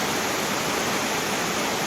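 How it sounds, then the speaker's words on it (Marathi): Heavy monsoon rain pouring down in Kudal as heard from a home balcony above a flooded street, a dense, even roar of broadband wash with no breaks or voices. "बाल्कनीतून बघा किती मोठा पाऊस पडत आहे"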